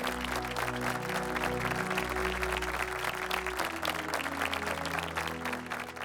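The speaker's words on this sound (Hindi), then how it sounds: "आप सभी जोरदार तालियों के माध्यम से अपनी अपनी आदरांजलि पहुंचाएं चिराग पासवान जी के पास" Audience applause welcoming Chirag Paswan at a Make in India conclave, steady clapping filling the hall for about six seconds, with music or tones running underneath.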